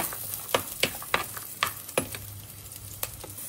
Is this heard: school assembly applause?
no